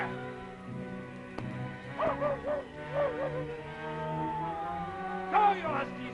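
Sled huskies yip and bark in a wilderness chase, several excited dog calls rising above someone shouting commands, with an old-radio drama texture throughout.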